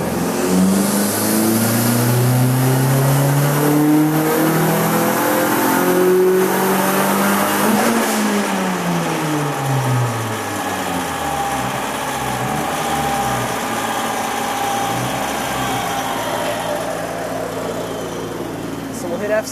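Car engine on a dyno revving hard at full throttle, loud and continuous, its pitch climbing in sweeping harmonics, then falling and steadying as the revs settle.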